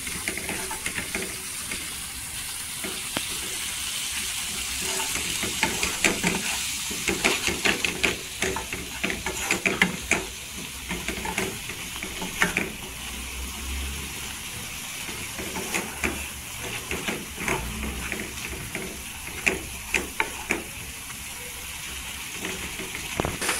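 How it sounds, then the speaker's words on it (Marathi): Idli-dosa chutney ingredients sauté in oil in a home kitchen, giving a steady sizzling hiss with scattered scraping and stirring clicks throughout, close and continuous. "इथे तेलावर परतून घ्यायची, पूर्णपणे चटणीचा कच्चा पण निघाला पाहिजे अशी तेलावर परतून घ्यायची"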